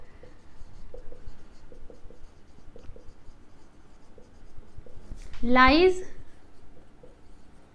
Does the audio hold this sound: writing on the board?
yes